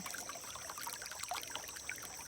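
Water from a hose trickles and splashes steadily into a cattle trough, quiet and continuous, with no voices.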